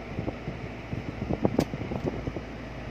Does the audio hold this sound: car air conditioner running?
yes